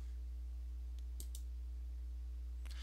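Mouse clicks while saving an entry in KDE Menu Edit, a few faint, sharp clicks close together in the middle of the clip and another near the end, set over a steady low electrical hum.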